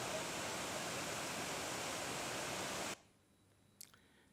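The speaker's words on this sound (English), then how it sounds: "This is the tallest waterfall in the world." A large waterfall roars as a broad, steady rush of falling water, even and loud, then cuts off abruptly into near silence with a brief faint click.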